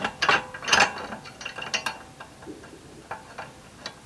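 A bolt is threaded on while fitting an engine guard to a Triumph Scrambler 400X motorcycle: a close series of light metallic clicks and ratcheting ticks in an uneven rhythm, with no talking.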